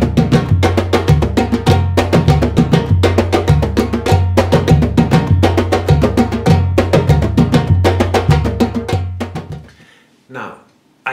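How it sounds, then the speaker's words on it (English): Brazilian chimbas percussion plays the tamanquinho rhythm loudly and up close: a driving, repeating pattern of sharp strikes over lower thumping tones. It breaks off near the end, followed by one brief hit. "And one of the rhythms they play is called tamanquinho."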